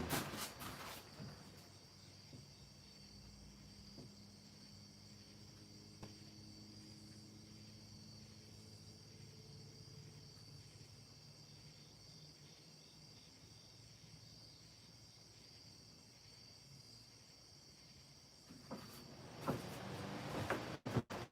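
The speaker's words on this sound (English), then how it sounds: "You hear the crickets." Crickets chirp steadily outdoors at night, a faint continuous high trill across a quiet background with a few soft low sounds mixed in.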